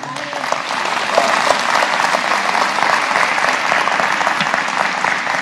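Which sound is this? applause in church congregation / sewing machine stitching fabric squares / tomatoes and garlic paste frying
applause in church congregation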